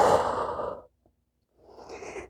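Slow audible breaths during a stretchy hatha vinyasa yoga flow: a long, airy exhale, a short silence, then a softer inhale, close and alone.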